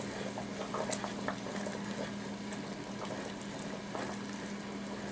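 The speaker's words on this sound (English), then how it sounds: "It's had a good minute plus boiling with the pectin in there." Steady bubbling and gentle popping of thick hot pepper jelly with pectin boiling in a pot, continuous and close, with a low hum underneath and no voices.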